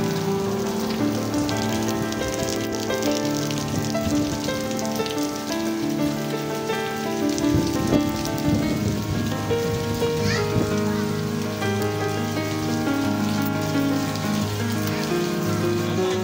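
Heavy rain pours steadily onto surfaces during a trip to Vizag, a dense continuous patter that stays loud throughout, with faint voices in the background.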